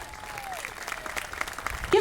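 Audience applause at a university presidential inauguration speech, a soft patter of clapping that swells toward the end, with a faint tone sliding downward early on.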